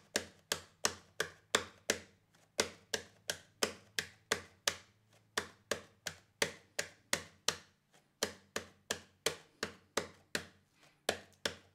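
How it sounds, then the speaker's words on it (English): Fingers tap a steady rhythmic pattern on an acoustic guitar body, giving crisp percussive knocks in even groups with short pauses between phrases. A low sustained hum sits underneath, and the knocks are close and fairly quiet. "You can even just tapping it out on your guitars."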